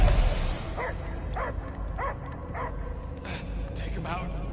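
A dog barks in a rhythmic series of about six evenly spaced yaps in the Guardians of the Galaxy video game, sounding fairly close over a rumbling low background, with a few sharper noises near the end.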